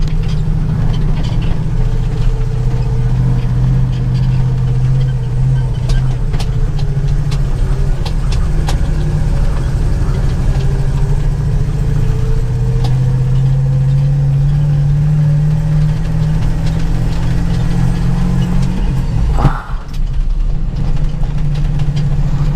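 A grain truck loaded for a soybean delivery runs its engine on an icy road: a loud, steady low rumble with a slowly shifting pitch, then a brief dip near the end.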